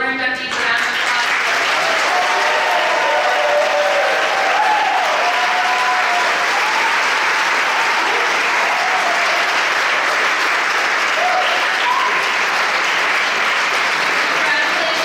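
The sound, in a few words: audience applause for honor society inductees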